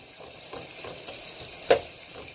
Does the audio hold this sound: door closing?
no